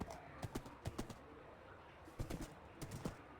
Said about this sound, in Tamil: என்ன சத்தம் போடுது குதிரை?